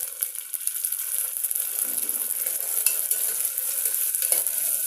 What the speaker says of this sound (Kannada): ನಾನು ಇದಕ್ಕೆ ಹಸಿ ಬಟಾಣಿಯನ್ನು ಹಾಕ್ತೀನಿ.